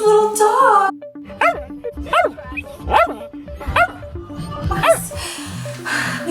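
Several small dogs bark and yip in sharp repeated bursts, loud and close, threatened by an attacking robot, with whimpers between barks and voices speaking over them.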